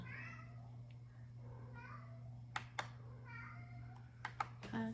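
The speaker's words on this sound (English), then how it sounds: "Crying kitten." A kitten cries in several repeated plaintive meows over a steady low hum, with a few sharp clicking taps near the end.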